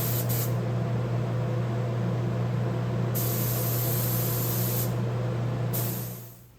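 Spray gun applying M.L. Campbell Arroyo water-based top coat over white oak, a loud continuous airy hiss broken by a few short pauses as the trigger is released, fading out at the end.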